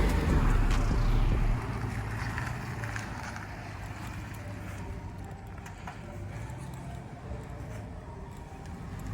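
A 1995 Chevrolet Caprice engine with an exhaust leak idles steadily with a low rumbling drone, louder for the first second and a half then settling into a constant, close running note.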